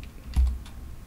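A few keystrokes on a computer keyboard entering a build command, a short cluster of close, soft clicks with one firmer tap near the middle, alone over faint room hiss.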